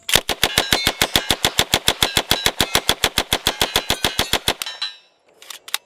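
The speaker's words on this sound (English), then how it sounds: "It's a 45 ACP submachine gun." A .45 ACP submachine gun firing a long, rapid full-auto burst of about thirty sharp, loud shots in even rhythm, stopping abruptly, followed by ringing echo and a couple of faint metallic clicks, with no talking.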